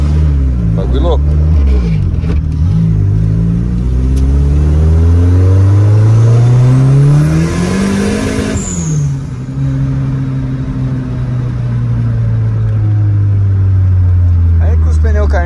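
A turbocharged car on semi-slick tires with a stock gearbox, engine revving up and down in loud sweeping surges as the tires spin, with voices talking over it.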